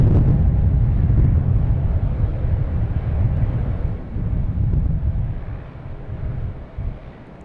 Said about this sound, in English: The wind I can do without.